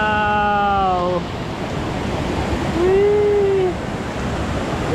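Lintungan Falls, a rural waterfall, roars as a steady broadband wash throughout, with voices talking over it.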